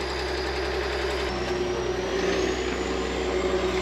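A digger swings a scrap car around in a car graveyard, its engine droning loud and steady with a rising whine and a slight shift in pitch partway through.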